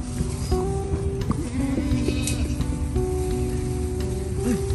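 Several goats bleat in wavering, nasal calls over a steady background hiss, some bleats overlapping and others near and brief.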